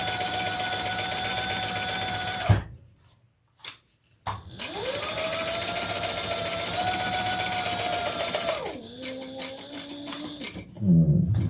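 Sewing machine top stitching a modified Aries garment, running in a steady whirring burst for over two seconds, a short pause, then a long continuous stitching run that slows and changes pitch near the end, followed by a clunk.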